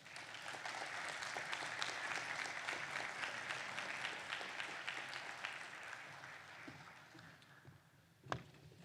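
An audience at the 2023 West Virginia Education Summit applauds after a senator's remarks: sustained clapping from a large crowd, strong and even at first, then thinning and fading, with a single sharp knock near the end.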